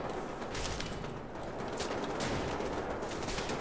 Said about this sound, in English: And gunfire's coming this way.